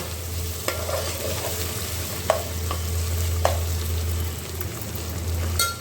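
Onions frying with ginger-garlic paste in a pan, stirred with a utensil, for a Konkan-style chicken vade meal: a steady sizzle with a low hum beneath and a few sharp scraping clicks from the spoon.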